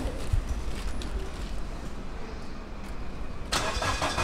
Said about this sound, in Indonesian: Saya coba nyalain mesinnya ya.